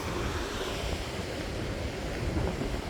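Wind-driven sea waves surge into a bay in rough weather, a steady broadband wash of surf and gusts holding constant throughout with no pauses.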